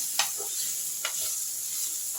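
Vegetables, including potato, frying in a pan give a steady soft sizzle, with a couple of brief scraping stirs.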